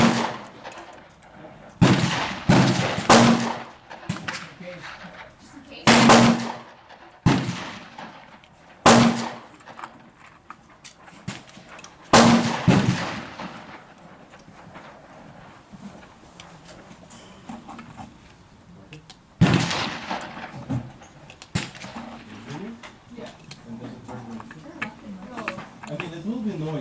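.38 Special shorts fired from a Smith & Wesson 686 revolver crack out as several sharp, separate reports at irregular intervals, with handling noise and faint voices between the shots.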